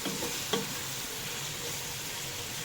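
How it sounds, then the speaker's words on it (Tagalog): Santol stirred into sautéed shrimp in a pan gives a soft, steady sizzle with a brief scrape of the spoon near the start, fairly quiet overall. "Tapos ihalo na natin yung ating santol."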